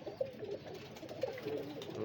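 A sturdy pigeon gives a couple of soft, low coos, faint and nearby.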